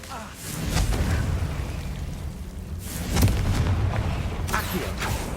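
Confringo blasting spell in Hogwarts Legacy, a rumbling game explosion with a sharp burst midway, set among other spell effects and low booms, with a voice speaking at times.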